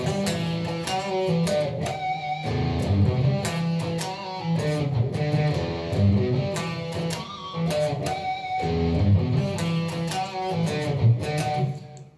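Distorted electric guitar plays the Beat It intro riff with power chords, a driving, repeated rhythmic pattern of chugging chords and quick single-note runs, loud and close with no voices.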